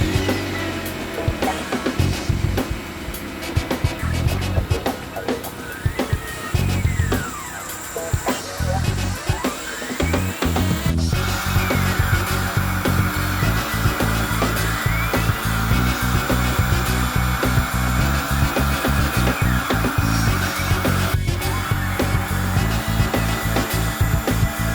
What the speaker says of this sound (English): We're going to get that stuck down in the mill and start carving.